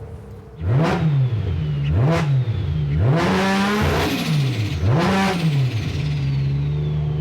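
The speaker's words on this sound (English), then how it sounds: "So, do you want to hear what it sounds like?" A Nissan Skyline RB straight-six engine revs close by in about five sharp rising and falling blips, then settles into a steady idle.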